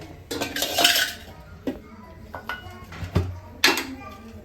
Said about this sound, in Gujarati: મેં આ ટાઈપનો વાટકો લીધો છે એનાથી આપણે દબાવી દેસવાનું